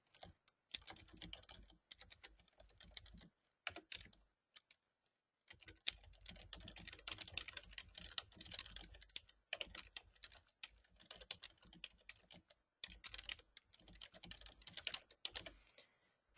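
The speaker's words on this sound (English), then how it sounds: "So let's type out a little bit of information for this clause." Typing on a computer keyboard in bursts of quick, close key clicks separated by brief silent pauses, crisp and fairly quiet, with no voices.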